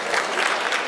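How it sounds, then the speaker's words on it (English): Audience applause at the curtain call of a secondary school dance production, a brief dense wash of clapping heard close and steady. "Don't stop clapping"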